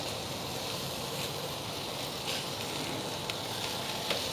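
Balsamic-glazed chicken sizzles over direct grill heat, a steady close hiss with faint crackles and pops scattered through it, no voices.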